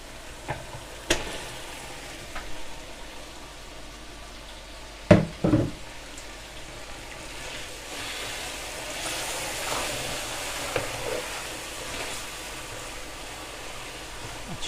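Minced meat, 4.5 kg of keema, frying in oil with spices in a large pot, giving a steady broad sizzle throughout, with a few louder clattering stir bumps partway through and no talking.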